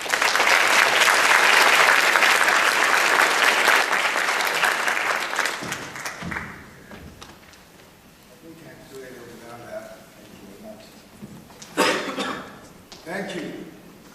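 Audience applause at a biodiversity and ecosystem services symposium, loud and sustained broadband clapping for about six seconds, then fading into quieter scattered claps and hall noise with brief bursts near the end.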